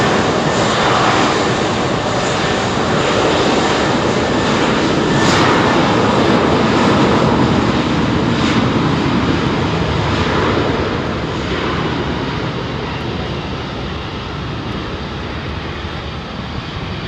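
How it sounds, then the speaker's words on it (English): A Virgin Atlantic Airbus A330-900 jet takes off on its first flight to Boston from London Heathrow runway 27R, a loud, close, continuous engine roar that holds steady and eases slightly toward the end. "First flight of the Virgin 339 due to fly to Boston in October."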